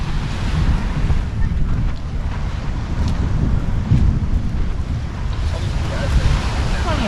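Surf breaks on a beach in the Norfolk Broads near Great Yarmouth, a loud, continuous wash of waves with heavy wind buffeting the microphone throughout.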